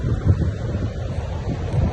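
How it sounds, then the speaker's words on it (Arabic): Steady wind gusts roar across the beach at Mehdia in Morocco, a close, rumbling buffeting against the microphone with low surf-like wash beneath, continuous and without speech. "فاش تجي المهدية كيضرب فيك واحد الريح في وجهك"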